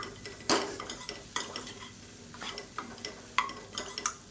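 A spatula stirs green beans coated with gram flour and masala in a pan, the sauté coming through as faint, intermittent scrapes and soft sizzling with a few sharper knocks against the pan.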